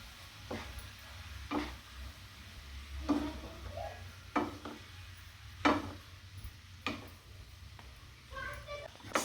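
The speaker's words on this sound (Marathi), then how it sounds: "चांगले मिक्स करून घेते मी" Vegetable hakka noodles being stirred in a pan, with soft scraping strokes recurring every second or so over a low background hum.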